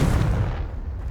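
The Confringo fire spell from Hogwarts Legacy lands as one loud, deep, booming blast that rumbles briefly and then fades.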